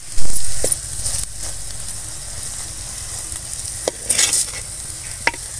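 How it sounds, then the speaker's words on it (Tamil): A spoon stirs spiced masala with chilli powder as it sautés in a pan, with a steady sizzle running throughout and a few scraping strokes of the spoon against the metal standing out nearby. "இப்போ எல்லாத்தையும் நல்லா வதக்கிக்கலாம்."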